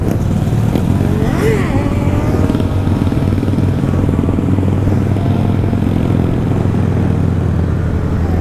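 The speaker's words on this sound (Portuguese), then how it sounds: "A moto corre muito e não tem escape." An unmuffled motorcycle with no exhaust, revving loud and close at night on a street, its rough engine note rising and falling continuously with faint background voices.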